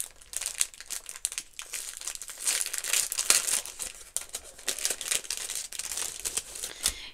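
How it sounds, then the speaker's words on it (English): A package is torn open, giving close crinkling and crackling of plastic wrapping, with rustles and crumples in bursts that continue steadily throughout. "I'll open up the package so that you guys can get a better look."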